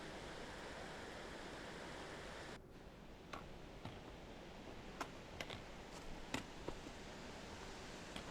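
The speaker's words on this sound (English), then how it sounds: "This is the lower set of falls." The lower falls of White Oak Canyon in Shenandoah National Park make a continuous, even rushing roar of falling water, heard at a modest level, with a few sharp little ticks scattered through the second half.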